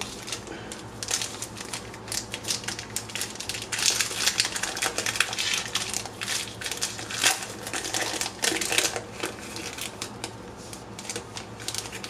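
A Panini Mosaic basketball card pack being torn open and the cards handled, with close crinkling foil and rapid tapping, shuffling clicks over about twelve seconds, and no speech.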